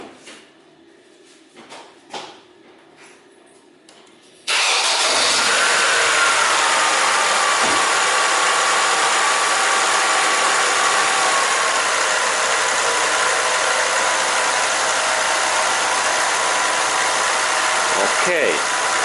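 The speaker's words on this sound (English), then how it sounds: "I start my car's engine next" A Ford Zetec car engine starts after a few quiet clicks and knocks, then runs at a loud, steady idle close by for the remaining fifteen seconds.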